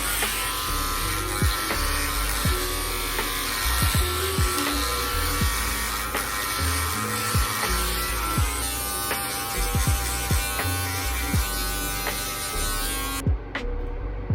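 Electric hair clippers with the lever open buzz steadily up close while debulking hair during a self-cut taper fade, with a constant motor hum and faint clicks and snips as the blade moves through hair, then a brief cutoff at the end.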